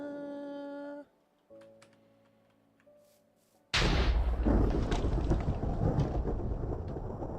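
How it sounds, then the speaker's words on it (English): A sudden loud crack of thunder from a lightning strike in Minecraft, following a few seconds of soft musical tones, then a long rumbling roar that slowly fades. "Oh, that was lightning. I thought creeper blow up again."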